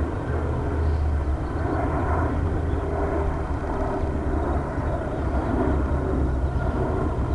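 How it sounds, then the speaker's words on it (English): A commuter airplane on approach passes overhead near KCOS, its engines giving a steady, broad rumble that holds at constant loudness throughout. "Big airplane, yeah."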